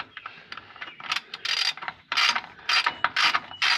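A socket ratchet clicks in quick bursts while tightening bolts in a cramped spot, sharp close ratcheting runs separated by brief pauses.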